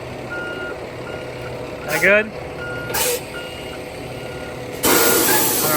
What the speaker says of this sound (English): This here is what's called a conveyor truck